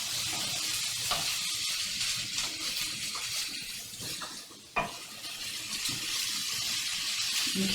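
Vegetables for a stuffed apple-walnut acorn squash sizzle and fry steadily in a hot pan, a continuous close hiss with occasional stirring scrapes and no talking.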